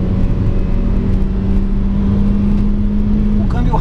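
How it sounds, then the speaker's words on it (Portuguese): Inside a Citroën Aircross, steady road and engine noise holds with a constant hum as the car accelerates from cruising speed, and a shift in tone comes near the end as the gearbox kicks down to third. "vamos fazer aqui uma retomada de velocidade"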